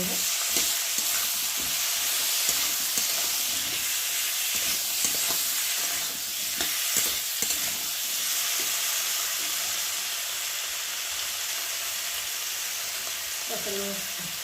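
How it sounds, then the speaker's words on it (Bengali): Onion paste, tomato and chillies sauté in a pan for a rohu fish curry with potato, a constant close sizzle broken by the scrape and clatter of stirring throughout. "আর দেবো কটা কষা লঙ্কা আর দেবো টমেটো আর দেবো পেঁয়াজ বাটা দিয়ে ভালো করে একটু কষিয়ে"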